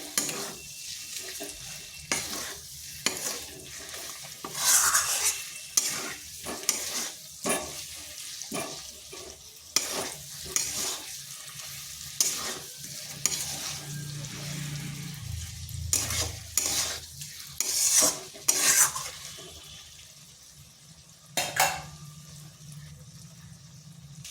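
Potatoes and spice masala for niramish alur dum being stirred and fried in oil, with bursts of sizzling and steady scraping strokes repeating through the whole stretch, close and fairly loud, without speech.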